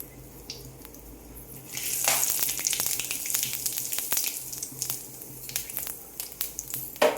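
Whole spices, a bay leaf, cinnamon, cloves and cumin seeds, hit hot oil and burst into a close, bright sizzle after a quiet start, with scattered crackles and pops that ease off slightly before flaring again.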